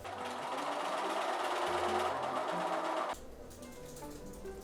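A sewing machine runs a zigzag stitch along elastic: a steady close whirring hum for about three seconds, then it stops and only faint room noise remains.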